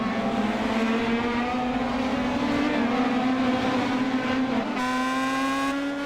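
Several Pro Mazda race cars circuit Interlagos in a continuous loud engine drone, pitch steadily rising as they push, with a brief gear-change dip near the end and no voices.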